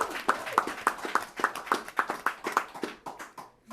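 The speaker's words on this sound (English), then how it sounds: "Let's give a big round of applause." Rhythmic clapping at a Brampton government event announcing lower credit card fees for small businesses: a dozen or so sharp, evenly spaced claps from a small group, fairly close and steady, thinning out near the end.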